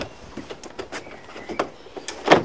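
A VW T5 door card panel is pried away from the door, giving a series of short plastic clicks and pops that grow to a louder snap at the end.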